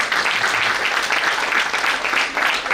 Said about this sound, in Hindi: तो स्वागत तालियों से करते हैं